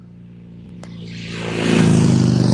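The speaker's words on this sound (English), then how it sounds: "Motorcycle." A motorcycle approaches on a road past a burnt-out house and truck. Its engine rises from a low distant rumble into a loud, rough roar as it passes near.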